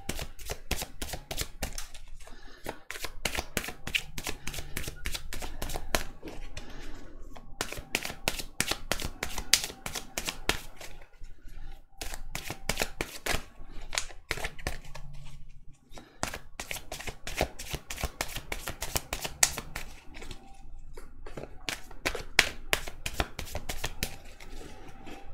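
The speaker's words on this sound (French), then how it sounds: "je vais tirer 3 cartes de l'oracle des miroirs et 3 cartes de l'oracle de la triade" Oracle cards from the Oracle des Miroirs and Oracle de la Triade are shuffled and drawn in rapid, crisp riffling bursts. The runs of dense flicking are broken by short pauses, close and moderately quiet.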